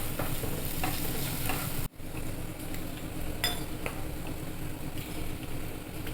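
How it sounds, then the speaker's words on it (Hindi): Vegetables for veg Manchurian stir-fried in a pan, with a steady close sizzle and scraping stirs, broken by one abrupt moment of near-silence before the frying resumes. "इसको थोड़ा सा फ्राई कर लेंगे सब्जियों को"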